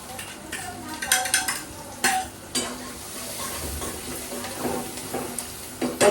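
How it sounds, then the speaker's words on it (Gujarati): Chopped onions and asafoetida fry in hot oil with a steady sizzle, broken by repeated clinks and scrapes of a spoon stirring against the pan. "તો તેલ આપણું આવી ગયું છે એટલે પહેલાં આપણે એમાં નાખીએ થોડીક હિંગ. પછી નાખીએ ઓનિયન."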